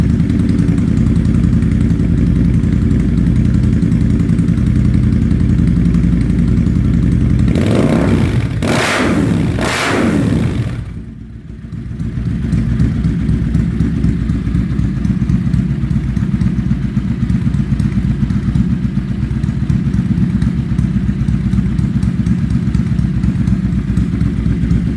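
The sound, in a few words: motorcycle engine starting and idling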